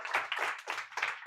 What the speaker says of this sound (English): So a big round of applause for Emanuele and Giacomo.